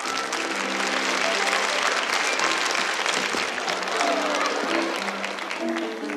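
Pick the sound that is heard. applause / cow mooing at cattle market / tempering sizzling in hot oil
applause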